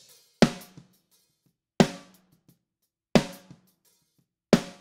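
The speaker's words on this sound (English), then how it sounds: "So that sounds like this with both snares combined." Two snare drum samples, one lower-toned and one higher, are combined in Logic Pro for gospel drums and strike four times in a steady pattern, each punchy hit followed by a faint ghost tap, alone without speech.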